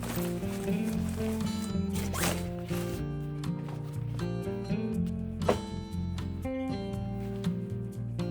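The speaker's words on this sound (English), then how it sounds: "you can zip it and tuck it into the bottom" Zipper on the mesh divider of a Patagonia Mini MLC 30L travel bag being pulled open and closed, a run of close, rapid rasping strokes with fabric rustle between them.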